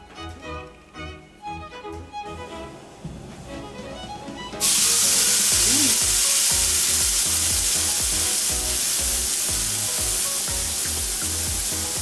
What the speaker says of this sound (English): Now that we've set the steak in the pan, we let it cook for 4 1/2 minutes to make it rare